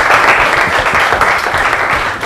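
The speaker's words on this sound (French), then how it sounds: "Applaudissez très fort" Loud, dense applause from an audience at a children's television program in the Democratic Republic of the Congo, continuous and close, holding steady for a couple of seconds.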